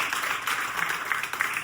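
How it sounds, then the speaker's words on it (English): A crowd gathered at a club car meet claps steadily in a dense, continuous round of applause, moderately loud and near, with no talking over it. "Give yourself a round of applause"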